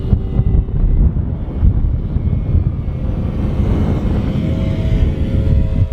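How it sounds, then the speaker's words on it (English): Strong wind roars steadily across the microphone at an RC plane airfield, a loud, continuous rushing buffet with a faint engine drone underneath. "In that wind, oh my goodness."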